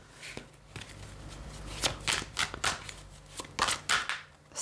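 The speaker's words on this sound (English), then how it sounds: "Let me reshuffle that." A deck of tarot cards is shuffled by hand, giving a string of quick riffling and slapping bursts that grow denser toward the end, close and fairly quiet with no talk.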